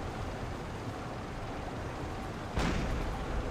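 A submarine deck gun in Silent Hunter 3 booms once near the end with a sharp blast, set over a steady low rumble of sea and engine.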